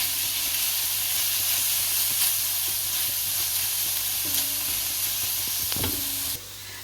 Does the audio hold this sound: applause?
no